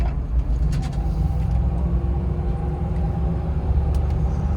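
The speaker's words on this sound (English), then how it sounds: "going for a quick spin in the P38." Range Rover P38 SUV with a 4-speed ZF automatic cruising, heard from inside as a steady low engine and road rumble with no talking.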